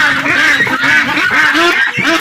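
Ducks on a village farm in Malaysia quack and honk loudly and continuously at close range, many birds calling over one another.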